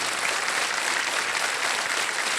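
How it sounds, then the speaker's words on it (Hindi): A studio audience on a quiz show set applauds steadily, a dense continuous wash of clapping filling the whole stretch with no voices on top. "तालियां बजती रहे निशा जी के लिए"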